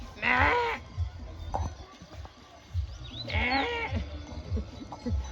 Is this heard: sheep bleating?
yes